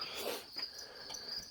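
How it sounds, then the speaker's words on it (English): Crickets chirp inside a workshop where a McCulloch Pro Mac 850 chainsaw is being torn down, a faint continuous high trill under quiet room noise and soft handling sounds. "there's crickets in here"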